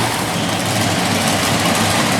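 Big Ford monster truck engine running in an arena in Harrisburg, Pennsylvania, a loud, dense, continuous low roar that fills the whole stretch without pause.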